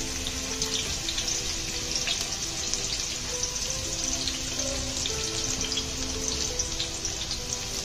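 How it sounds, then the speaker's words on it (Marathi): Finely chopped small onions sizzling in a generous amount of hot oil for spicy Kolhapuri misal, a steady dense frying hiss and crackle that runs unbroken at close range throughout, with no voices. "बारीक चिरलेला कांदा घालायचा आहे यामध्ये"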